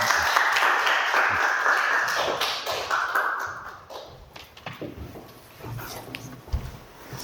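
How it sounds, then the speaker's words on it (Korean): An audience claps in welcome for a climate science professor about to give a lecture in a Korean hall, a dense burst that thins into scattered claps over several seconds. "여러분들의 힘찬 박수로 모시도록"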